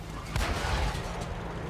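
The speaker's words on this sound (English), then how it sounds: "Put a couple of shots on the move." A tank cannon fired on the move in World of Tanks, a single deep boom with a rumbling tail, heard alone over low engine noise.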